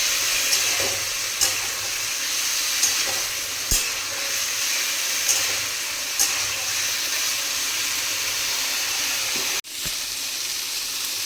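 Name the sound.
boiled bitter melon and potato frying in pan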